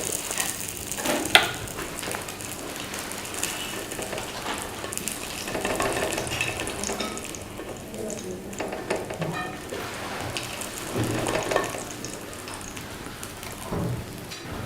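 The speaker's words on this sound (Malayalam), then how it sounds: "നല്ലതുപോലെ പൊരിഞ്ഞു എന്ന് തന്നെ തോന്നുന്നു. അതായി നമുക്ക് എണ്ണയിൽ നിന്ന് മാറ്റാം." Goat brain omelette frying in oil, a continuous crackling sizzle close by with occasional louder spattering bursts and faint stirring noises.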